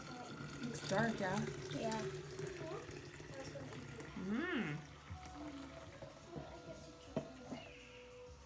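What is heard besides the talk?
pouring mango kombucha into a clean jar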